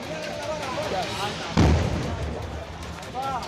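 A sharp, heavy gas cylinder blast booms out amid a rushing fire roar at Adampur market, Gonda district, with voices talking and shouting in the background throughout.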